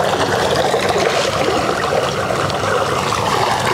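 Sulfur spring water bubbles up from the ground in a garden, a steady close trickle and gurgle with no other sounds.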